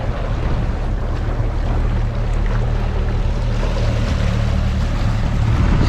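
A Sea Pro motorboat engine drones steadily over rushing water and wind, loud and close, with no voices.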